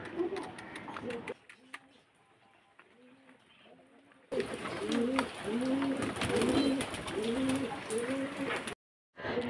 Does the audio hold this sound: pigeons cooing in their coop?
yes